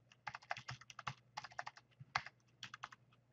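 Quick, light clicks of typing JavaScript code on a computer keyboard, in irregular bursts with short pauses, close and fairly quiet.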